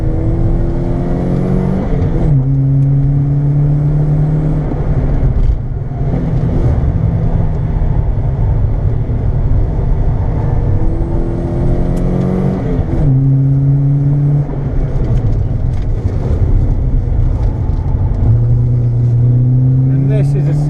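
Minibikes on the Three Sisters circuit in Wigan accelerate down the final straight, engines loud and close with rising whining revs, several gear changes and a steady roar throughout, while a rider talks over the noise.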